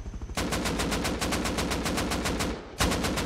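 Rapid automatic gunfire in the survival video game Rust, a steady, evenly spaced burst of loud close shots lasting over two seconds, a brief break, then firing resumes, with no talking.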